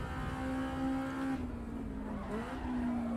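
In the video game Assetto Corsa EVO, a racing car engine holds a steady high drone, then a tyre squeal and skid as the wheels lock, the engine note dropping and recovering, all close and loud.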